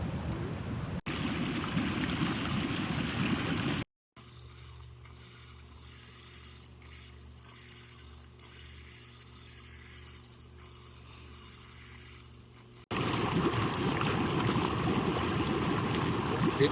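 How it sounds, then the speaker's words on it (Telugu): A river flows beside a lodging in Vermont, a steady rushing wash of water heard up close, broken by a quieter muffled stretch in the middle before the full flow returns. "అండ్ పక్కనే నది"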